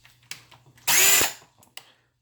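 A Porter-Cable brushed cordless drill whirs in one short, loud burst of under half a second, with quiet handling clicks and knocks before and after.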